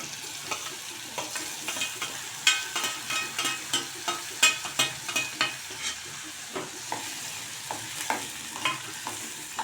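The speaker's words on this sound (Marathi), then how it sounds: "टमॅटो छान फास्ट गॅसवर आपण परतून घेऊया." Chopped tomatoes sauté in a pan over a high gas flame, a soft steady sizzle broken by repeated scraping and clacking strokes of a spoon stirring them, close up and with no talk.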